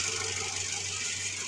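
A small engine runs at a steady, faint idle after oil was added through the spark plug hole to restore lost compression, a low continuous hum with no other sounds.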